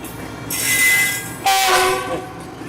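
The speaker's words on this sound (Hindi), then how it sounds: "तो बच्चों, आप लोग ट्रेन आ रही है।" Train pulling into a station platform sounds its horn in two loud, close blasts, the second at a lower pitch, over a low rolling rumble and faint wheel squeal.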